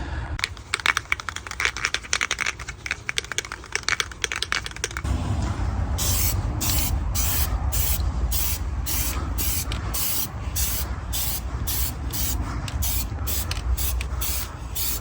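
Aerosol cans hiss steadily as Plastidip is sprayed onto VW Transporter T5 wheels, first in a series of short bursts with rattling clicks, then a long continuous spray with rhythmic ticking underneath.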